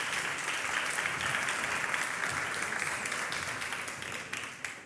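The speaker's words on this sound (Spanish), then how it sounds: "Un aplauso nuevamente a los pastores." Church congregation applauding its pastors with sustained, fairly soft clapping that holds steady and tapers slightly toward the end.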